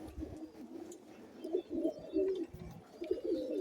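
Pigeons coo in soft, repeated, throaty phrases, several overlapping rolls rising and falling close by over a faint background, with no talking.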